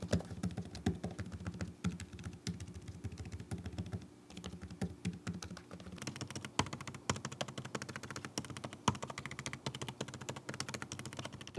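Rapid, continuous, shallow-sounding clicking of Lenovo Yoga 9i 14 laptop keys typed at a steady pace, close up and fairly quiet, with no talking.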